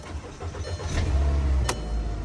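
A 2008–2013 VW Jetta engine cranks and catches on a newly made key, giving a brief low rumble that settles into a steady run.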